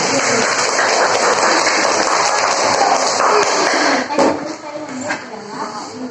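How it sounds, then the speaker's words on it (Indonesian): Classmates applaud a student in a school classroom, a loud, busy patter of many clapping hands that thins out and breaks up near the end, with some voices mixed in. "Tepuk tangan buat Zaki."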